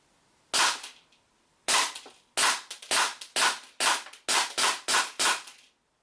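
A WE G17 High Speed airsoft pistol fires nine sharp, loud shots in a 10 meter accuracy test, one single shot followed by a steady, fairly quick string of eight, with no talking.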